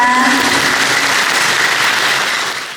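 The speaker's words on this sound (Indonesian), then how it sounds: "Tepuk tangan untuk Ibu Dila" Audience applause at a public lecture in Indonesia: a loud, dense wash of many hands clapping fills the room steadily, then fades away at the end.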